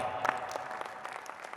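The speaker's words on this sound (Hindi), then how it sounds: "आप एक मरतबा अपने लिए तालियां बजाएं।" Audience applause at an All India Mushaira poetry gathering, a short burst of scattered clapping with a couple of louder claps near the start, fairly quiet and thinning out quickly.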